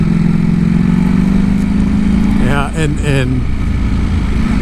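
A 2022 Ducati Panigale V4 S engine hums steadily at low revs in town riding, a continuous close drone while someone talks over it.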